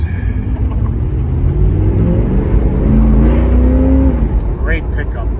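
A 1989 Chevrolet Camaro IROC with a 5.7 V8 accelerating from inside the cabin, a loud low rumble rising steadily in pitch as it pulls, with a voice talking over the engine.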